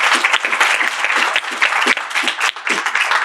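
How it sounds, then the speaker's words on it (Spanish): An audience at a Spanish-language talk claps loudly and continuously, a dense close applause that runs throughout with a few voices mixed in. "un aplauso, muchas gracias"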